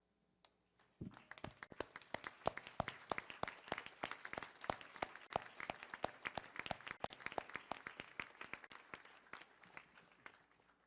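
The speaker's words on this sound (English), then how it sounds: "give a round of applause to all those people who were here through this crazy ride" A graduating law school class at a spring commencement ceremony breaks into sustained applause after a second of quiet, with dense steady clapping from a large crowd that holds strong right to the end.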